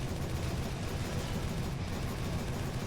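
Dense, continuous gunfire and explosions in the dinosaur-hunting video game Jurassic: The Hunted, a loud unbroken roar of shots with no speech.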